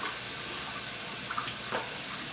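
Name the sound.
water running from a faucet while checking for leaks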